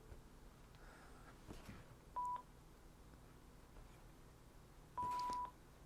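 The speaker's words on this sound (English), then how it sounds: "And it is connected, and you heard a beep, long beep." A Panasonic Link2Cell DECT 6.0 cordless phone gives a short tone, then a longer steady Bluetooth pairing beep a few seconds later, both clear over quiet room noise.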